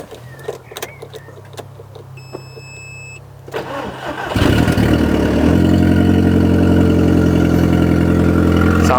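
An Audi TT with a newly fitted front-mounted intercooler cranks briefly after a quiet pause, fires up loudly and settles into a steady, rough, close idle.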